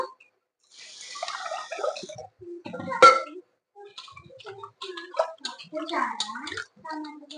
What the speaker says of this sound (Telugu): ఒక స్టవ్ మీద అయితే రైస్ కడిగేసి పెట్టేస్తాను